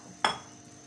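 A spoon stirs cooked dal into fried masala in a pot, making one brief, fairly close scrape and clatter that fades quickly into a quiet background.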